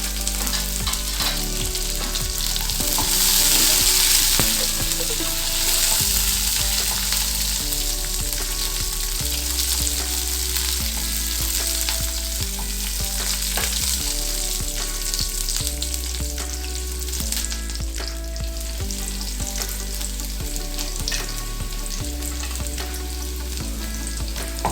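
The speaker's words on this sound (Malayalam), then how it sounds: "കടുക് പൊട്ടിക്കഴിഞ്ഞു. അതിലേക്ക് ഒരു സവാളയുടെ ഒരു ചെറിയ കഷ്ണവും 4 വേപ്പിലയും" Onion and curry leaves sizzle loudly in hot oil with mustard seeds already popped, a continuous frying hiss broken by occasional stirring scrapes and crackles throughout.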